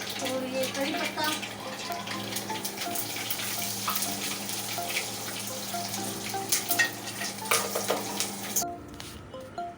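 Red chili, green chili and curry leaves crackle and sizzle steadily in hot oil while cooking Bagare Baingan, with stirring and a soft tonal hum beneath; the frying stops abruptly near the end.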